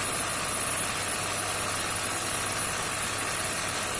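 Bomet potato digger running at 760 rpm, a steady, loud mechanical drone with a constant hum that holds evenly throughout, with no pauses or talk.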